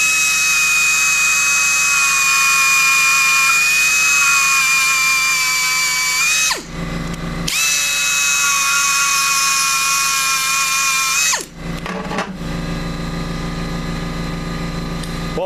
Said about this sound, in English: Thanks to Brother Brad, we got a fancy 1/4-inch angle die grinder.